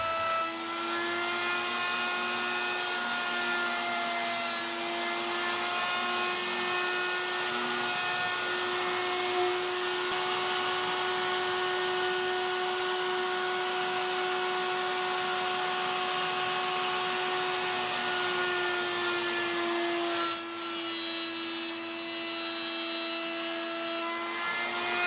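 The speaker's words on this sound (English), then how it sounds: "With a 1/2-inch spiral cutter in the router table and stops set at either side, I can cut the mortises for the hinges." Router table spinning a 1/2-inch spiral cutter while cutting hinge mortises between stops in a wenge and birdseye maple keepsake box: a loud, steady, high-pitched motor whine with harmonics, sustained and near throughout.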